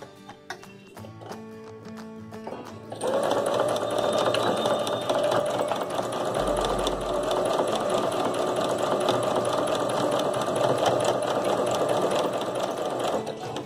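Sewing machine stitching a satin lining onto a dupatta, a quiet hand-handling sound first, then a fast, steady, close mechanical whirr with a rapid needle rhythm that runs unbroken for about ten seconds.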